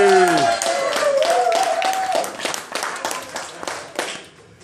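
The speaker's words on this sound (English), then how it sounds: "Big round of applause for the bar staff tonight" A crowd at a live pub gig claps for the bar staff, a fairly close run of brisk hand claps that thins and fades out, with a voice trailing off at the start.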